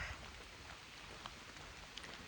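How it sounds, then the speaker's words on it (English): Faint, steady patter of light rain falling on the Appalachian Trail, a soft continuous hiss with occasional drops. "It's only sprinkling now."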